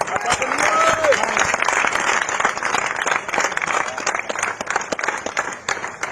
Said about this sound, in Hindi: तालियों का क्रम रुके ना